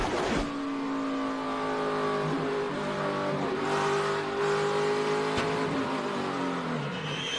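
Onboard a racing truck in the 2012 Lucas Oil 150, the engine drones loud and close at sustained high revs, pitch shifting slightly through the run with brief dips as the throttle eases.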